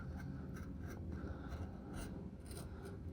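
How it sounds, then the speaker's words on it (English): An X-Acto knife cuts a circle of filter paper laid on PVC, giving faint, close, repeated rasping scrapes in short strokes. "just cut a circle without cutting the PVC"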